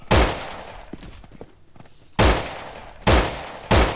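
Gunfire in the zombie survival game No More Room in Hell: four loud, sharp shots close by, spaced unevenly, with quieter shuffling between the first two and no voices.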